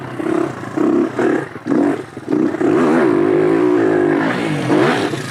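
A motorcycle engine revs hard and close up on a jump field, first in short surging bursts and then in a sustained loud roar that rises and falls, with no talk over it.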